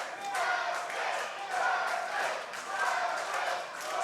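A wrestling crowd at an indoor independent show roars and chants in surging waves, a dense, continuous cheer that rises and falls rhythmically over several seconds.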